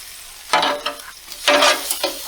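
Egg roll in a bowl is stirred in a bowl on a Blackstone griddle, with a few scraping, sizzling strokes in two close bursts, loud and near.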